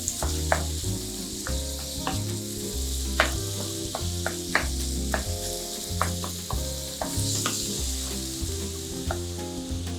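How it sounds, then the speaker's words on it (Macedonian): Minced meat for lasagna frying in a pan, a loud continuous sizzle with steady crackling pops and occasional scraping stirs, no voices. "Месото го пржиме"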